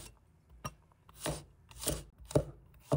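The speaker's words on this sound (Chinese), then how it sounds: "先把蒜皮剥掉，再把蒜瓣切成薄薄的片儿" Peeled garlic cloves being sliced thin with a knife on a wooden board, four distinct close chops spaced about half a second apart against a quiet background.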